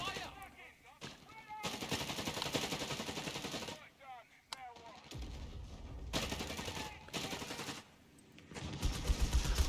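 Machine gun fire in the strategy game Company of Heroes 3: repeated bursts of rapid gunfire and scattered shots, mixed with other battle sounds and running under a commentator's talk.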